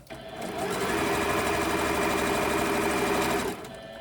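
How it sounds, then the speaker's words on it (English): A sewing machine runs steadily for about three seconds, stitching back and forth to secure seams on small quilted scrap-fabric Christmas key fobs, a loud continuous mechanical whir that starts and stops abruptly. "just go back a couple of stitches to keep those stitches nice and secure."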